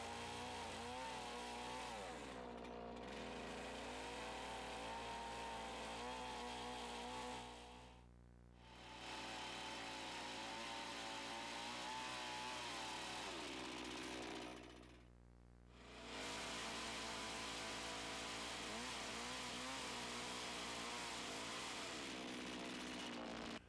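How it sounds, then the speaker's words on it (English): A chainsaw cuts through a log for a log cabin purlin brace, its loud, buzzing engine revving hard in long stretches, dropping briefly to idle twice as the log is rolled to finish the cut. "Roll the log to complete the cut."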